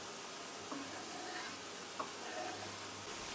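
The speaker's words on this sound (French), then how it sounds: "Transvasez sur une poêle avec de l'huile chaude." Chopped leeks fry in hot oil in a pan, giving a faint, steady sizzle with a couple of soft stirring clicks. No one speaks.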